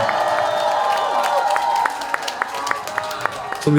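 An outdoor festival crowd at a samgyetang food festival stage in Geumsan claps in a quick, steady rhythm, the sharp claps ringing over sustained music tones and crowd murmur.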